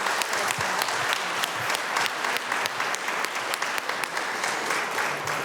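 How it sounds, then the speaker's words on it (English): Audience applause for a group of people on stage at a community event, a loud, continuous burst of many hands clapping close by with sharp individual claps standing out, no talking. "Let's give a big round of applause for everybody on the stage"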